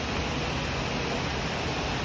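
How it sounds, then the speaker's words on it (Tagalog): The waterfall at Villa Escudero gives a steady, broad rushing roar of falling water, loud and continuous with no voices. "Dito na kami guys sa waterfalls."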